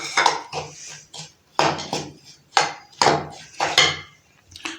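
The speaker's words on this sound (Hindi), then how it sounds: "इनको अच्छी तरह से मैदे में मिक्स करना है।" A spoon works dry fruits into maida flour for cake batter in a bowl, producing about eight loud, close bursts of scraping and clinking separated by brief pauses.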